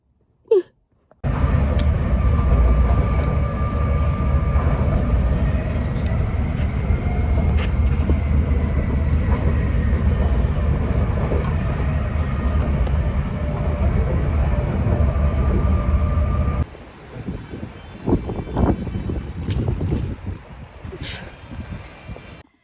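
A train pulls in toward a station, its loud, sustained rumble and rail hiss filling most of the stretch before cutting to quieter, scattered clatter near the end.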